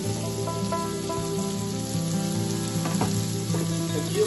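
Green peas, finely chopped beans and chopped carrot fry over high heat for egg fried rice, giving a steady close sizzle with light stirring scrapes and a low background hum throughout.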